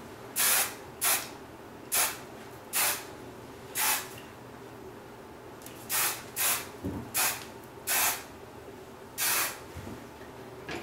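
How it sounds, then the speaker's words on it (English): Short bursts of hairspray hiss onto the back section of an updo, about a dozen quick sprays in an irregular rhythm, close up, with quiet pauses in between. "Make sure you spray the back section so that doesn't go anywhere."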